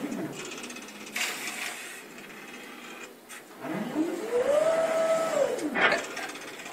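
A Signifi kiosk's motorized mechanism whirs and grinds as it repositions to place a disc, with a rising and falling motor whine amid clicks, and a voice talking over it at times.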